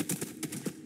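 Horse hooves clip-clop in the Nether of the Minecraft video game, giving five crisp, evenly spaced hoofbeats that sound close and moderately loud, with no voices.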